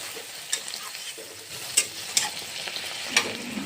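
Eggplant curry sizzles and crackles steadily in hot oil after a splash of water, with a few sharper pops and spoon clinks standing out over the continuous frying hiss; no one talks.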